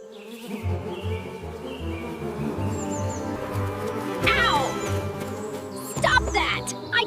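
Cartoon bees swarm in a loud, continuous buzzing drone to defend their hive from a honey-stealing bear, with brief swooping whines rising over the steady hum.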